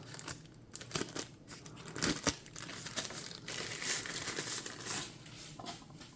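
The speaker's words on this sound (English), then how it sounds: "So you can rip it apart here." Plastic packaging and case of a Xiaomi Wowstick 1F+ electric screwdriver being ripped apart, a close, continuous run of crinkling and tearing with sharp snaps and rustles, no talk.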